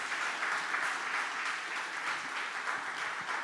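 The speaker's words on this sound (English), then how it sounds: "could we all give them a round of applause?" An audience applauds at the grand opening of the Eternal Gandhi Museum in Houston, producing dense, steady clapping that holds at an even level throughout, with no one talking over it.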